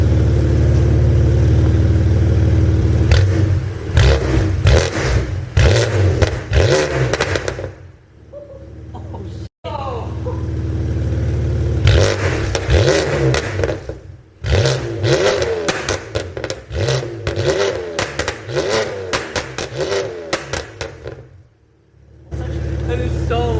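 A BMW F80 M3 engine with catless downpipes revs hard in loud, crackling bursts with pops, pausing briefly between blips, very close and aggressive.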